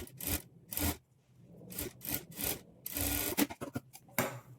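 A sewing machine stitches blouse fabric near a dotted mark to form a small frill, running in short, close bursts that start and stop repeatedly over a few seconds, with no talking.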